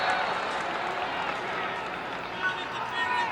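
Crowd cheering at a 1994 Syracuse vs. Duke college lacrosse game, a steady distant roar of many voices and applause under a play-by-play commentator's voice.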